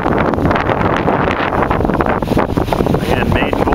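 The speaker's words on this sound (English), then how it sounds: "as you can hear, it's a little breezy here at Long Pond Lakeville" Breezy wind at Long Pond in Lakeville blows hard across the microphone by the water, a loud, steady buffeting roar with gusty fluctuations.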